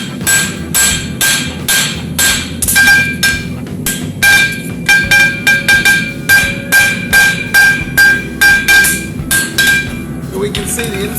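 Hammer forging the heel of a horseshoe: a loud, rapid series of ringing metallic blows on the anvil, many strikes in quick rhythm with brief pauses, close and bright.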